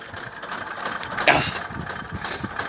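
Tractor engine idling steadily at close range during herbicide spraying of winter cereals on a farm, a continuous low rumble with a brief louder surge midway, no talk.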